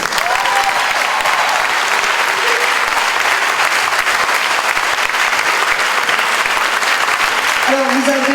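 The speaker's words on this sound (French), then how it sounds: "je vous demande d'applaudir Smith-Alia" A theatre audience applauds after a performance, with dense, loud, continuous clapping throughout; faint voices come through near the end.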